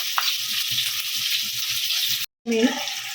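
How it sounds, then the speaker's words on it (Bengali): Three large chopped onions hiss and crackle as they fry in hot oil, a steady sizzle with a brief gap and a louder burst near the end, with faint speech underneath. "তিনটে বড় সাইজের পেঁয়াজ আমি তেলে দিয়ে দিলাম"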